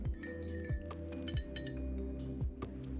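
Glasses clink together in a breakfast toast, several light, bright taps in an uneven rhythm, close and quiet, with low background hum.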